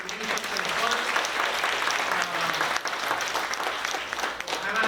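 An audience at an IIT Kanpur alumni meet applauds steadily, a dense patter of clapping that holds at an even level from start to finish.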